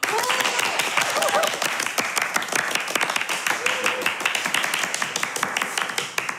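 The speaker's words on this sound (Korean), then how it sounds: "박수!" Applause at a seafood restaurant during an abalone meal, a small group clapping steadily and close for several seconds with faint voices mixed in.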